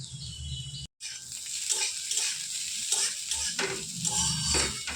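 Cashews and raisins frying in a pan with beans for fried rice, a steady close sizzle punctuated by scraping stirs, briefly cut off near the start before resuming.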